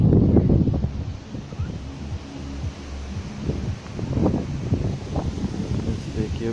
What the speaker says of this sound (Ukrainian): Дуже піднявся потужний вітер.